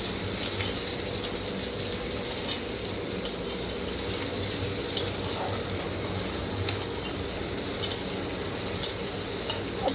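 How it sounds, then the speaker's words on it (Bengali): Onions frying in a pan for a fish curry, giving a steady close sizzle with light stirring scrapes and occasional small pops, continuous and without talk. "একটু লাল লাল করে ভাজবো"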